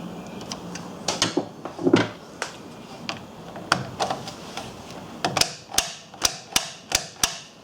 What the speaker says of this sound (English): now I'm just going to take and tighten this here screw to secure the switch